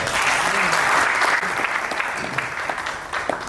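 A seminar audience in Lucknow bursts into strong, continuous applause that fills the hall, with a speaker's voice briefly audible beneath the clapping.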